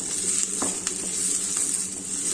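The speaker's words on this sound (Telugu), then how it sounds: "ముందు వేయించుకుంటే మిరపకాయ బాగుంటుందండి" Dried red chillies sizzle in a hot pan, a steady bright crackle with a few louder pops and faint stirring scrapes, close and continuous with no voices.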